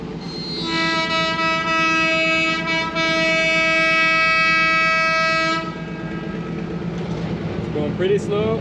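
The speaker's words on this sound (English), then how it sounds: "These are steam trains, steam powered engines, so really smelly and smoky." A steam train passing in Kampot, Cambodia sounds a long, loud, steady horn for several seconds over rumbling wheels, then the horn stops and the rolling rumble carries on, with voices faintly in the background.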